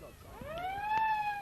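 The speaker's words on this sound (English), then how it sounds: "As the siren goes, marking the end of the first quarter." A siren sounds the end of the first quarter at a 1989 Melbourne University college football final, rising in pitch as one clear, moderately loud wail over faint crowd noise.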